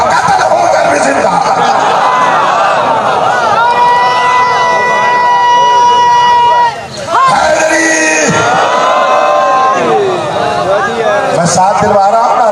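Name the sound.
crowd chanting religious slogans at a sermon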